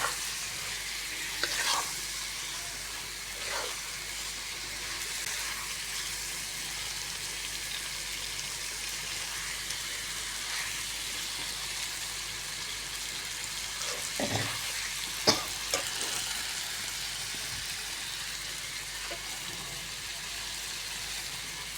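Fish pieces cooking in a fried spice paste in a pan give a constant soft sizzle throughout, with occasional clinks and stirring scrapes, and faint talk in the background.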